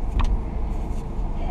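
A car cruises at low speed around a residential block on a hot day, a steady muffled engine and road hum heard from inside the cabin, with a brief faint click near the start.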